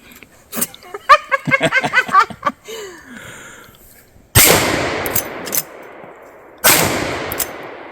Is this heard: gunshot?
yes